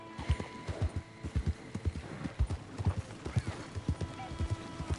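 Video game horse hooves from Red Dead Redemption 2 clip-clop in a quick, steady rhythm close by, with a faint whinny-like sound mixed into the trotting.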